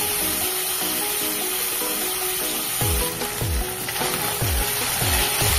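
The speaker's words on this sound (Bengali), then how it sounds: "ইলিশ মাছ আর ইলিশ মাছের তেলটা দিয়ে এবারে একটু এই অল্প তেলের মধ্যে ভেজে নেব বেশ কড়া করে" Hilsa fish pieces frying in a little mustard oil with their own fish oil give a loud, constant sizzle and hiss, broken by a few dull knocks of a utensil toward the end.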